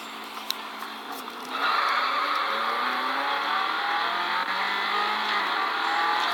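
A car drifts and skids in a racing video game, its engine revving into a sustained loud roar, with a continuous tire squeal layered over it and no voices.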